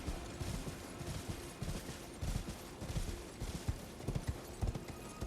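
A horse's hooves clip-clop in a steady, fast gallop in the video game Elden Ring, the rhythmic beats running continuously over a dense background of game ambience.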